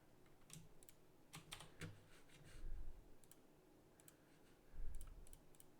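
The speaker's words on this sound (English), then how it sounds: "I'm just clicking the wrong things now." Quick, light computer clicks and taps come in short bursts close by, with brief pauses between, as game design work is done on a computer; no talking.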